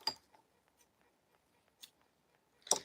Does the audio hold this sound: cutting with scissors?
yes